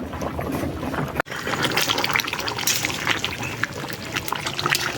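Mutton and potato curry boils in a pot, giving a steady, busy bubbling and sputtering up close. It drops out for a moment once.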